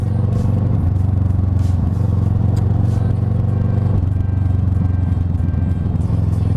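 A Kawasaki ER6n motorcycle fitted with a Yoshimura exhaust idles close by, its deep steady engine rumble loud and continuous with a slight mechanical clatter and a brief rev change midway.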